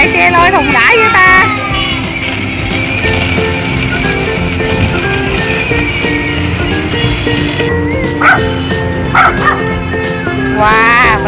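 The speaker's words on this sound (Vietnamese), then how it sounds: "bạn Bill đi ngang nhà có chó sủa hết trời luôn nha, hai con chó luôn" Two dogs bark repeatedly in loud, sharp yaps and whimpering yips near a house, overlapping with a steady musical backing and other voice-like sounds.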